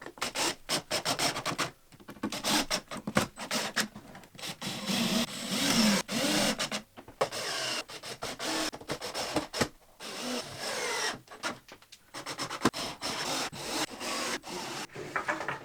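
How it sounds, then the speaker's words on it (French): Work on wooden dowel points on a wooden bed frame, likely cutting or sanding them flush, gives loud, steady rasping and scraping in repeated bursts separated by short pauses, with no talking. "retirer les pointes des chevilles"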